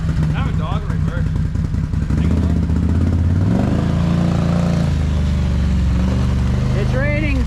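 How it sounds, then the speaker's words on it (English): Loud, steady engine rumble from a Can-Am Renegade 1000 ATV with a Yoshimura exhaust, out in the rain, swelling as it revs mid-clip, with voices talking throughout and a brief higher whine near the end. "We're checking this exhaust out"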